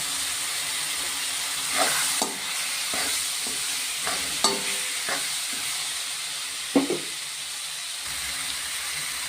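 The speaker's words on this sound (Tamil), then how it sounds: "இப்போ இதிலே வதக்கும் போது உருளைக்கிழங்கு நல்லா சீக்கிரம் வெந்துக்கும்" Potatoes sauté in hot oil for kurma, a continuous soft sizzle broken by several sharp spoon scrapes and taps against the pan, close by with no voices.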